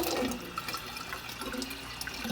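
Filtered water is poured from a bottle over sprouting seeds in a container, a short, close splashing and gurgling pour with no talk.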